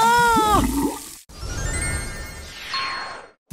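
A cartoon sound effect of water gurgling and draining down a bathroom drain, with a voice crying out over the first second and a falling swirl at the end.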